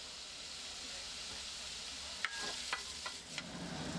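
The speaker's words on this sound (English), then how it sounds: "keep stir frying until it gets golden brown and aromatic" Steady sizzling in a hot pan as mushrooms are stir-fried, with a few sharp scrapes and clinks of a utensil near the end.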